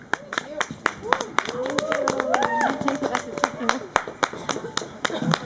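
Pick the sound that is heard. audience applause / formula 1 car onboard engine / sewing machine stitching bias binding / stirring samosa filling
audience applause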